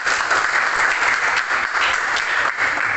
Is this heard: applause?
yes